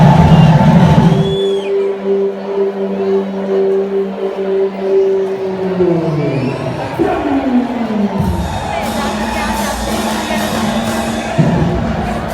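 A large crowd at the Attari-Wagah border flag ceremony cheers and applauds loudly, with a long sustained shout and whooping voices over a steady roar of clapping and chatter throughout.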